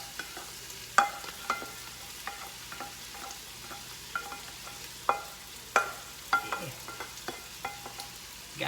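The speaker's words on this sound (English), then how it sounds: "take your onions and everything and just add that all up in there" Onions and other vegetables stirred into cooked sausage in a frying pan, with a soft sizzle under repeated sharp clacks and scrapes of a utensil against the pan, close and steady.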